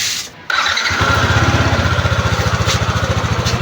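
A Yamaha NMAX scooter engine, after an engine refresh, cranks briefly, then catches and settles into a steady, close, pulsing idle.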